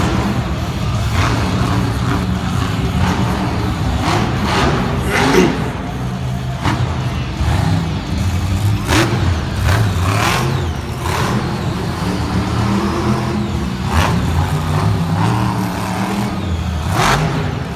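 A monster truck at a Monster Jam arena event in Lincoln, Nebraska revs loudly in uneven bursts, its engine surging and dropping off as it stalls, amid a continuous roaring crowd ambience.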